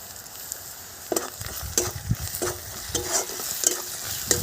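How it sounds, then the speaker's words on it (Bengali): A spoon stirs half-fried onions and garlic paste in a frying pan, giving sharp clinks and scrapes at an uneven pace over a constant soft sizzle. The sound is close, with no talking. "একটু নেড়ে নিলাম, নেড়ে চেড়ে দিয়ে দিলাম আদা বাটা।"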